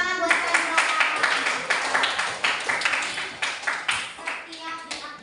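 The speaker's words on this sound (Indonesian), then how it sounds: "tepuk tangan buat Chandra" Small group of students claps for a classmate after a presentation, uneven, fairly light clapping with distinct individual claps, up close and steady, with voices audible over it.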